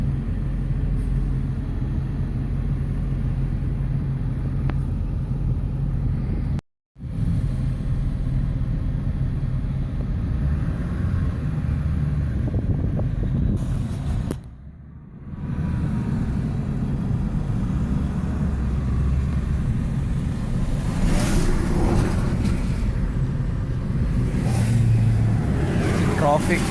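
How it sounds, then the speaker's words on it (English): Dense road traffic with cars and trucks passing, a steady low rumble of engines and tyres that runs almost unbroken, with voices talking over it. "Traffic everywhere."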